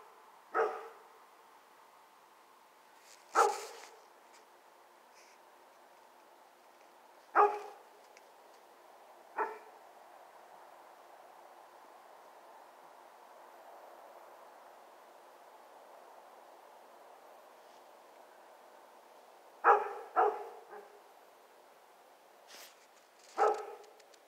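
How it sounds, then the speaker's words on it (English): A dog barks at night on a foggy, dark street, giving sharp single barks and short pairs at irregular intervals over faint steady background noise. "you're a good dog, Moan."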